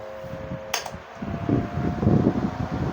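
A newly bought electric ceiling fan runs at speed with a steady whirring hum and a low, fluttering rumble, near and fairly constant, with one sharp brief click early on and no speech.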